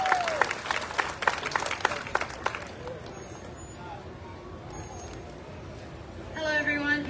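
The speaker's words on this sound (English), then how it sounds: "Give her a big round of applause." At an apple festival pageant presentation, a crowd claps for a young queen for about three seconds, a loud scattering of distinct claps that quickly fades into room murmur, followed by quiet and a voice starting at the end.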